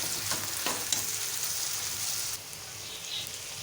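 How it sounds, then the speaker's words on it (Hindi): Chopped onions fry gently over a medium-low flame, giving a steady soft sizzle with a few scraping stirs near the start. "अब हम इसे मीडियम टू लो फ्लेम पे हल्का हल्का फ्राई करेंगे"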